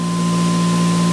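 A RegenX prototype generator idling with no load at 3,450 RPM gives off a steady, even electrical hum with a strong low tone and a faint whine above it, close, constant and alone.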